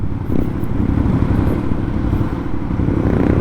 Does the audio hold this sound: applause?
no